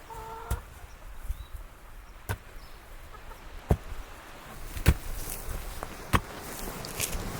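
Chickens cluck softly and sporadically in a garden on an island homestead, with a few sharp knocks and scuffing steps mixed into a quiet outdoor background.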